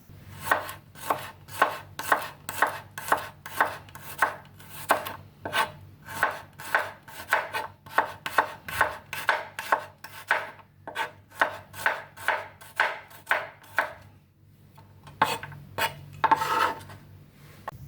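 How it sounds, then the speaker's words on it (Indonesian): Garlic cloves are sliced thinly with a knife, a fast, even run of crisp, close-up chops on a board that pauses briefly before a few more strokes, with no voices. "Bawang putih sudah diiris-iris,"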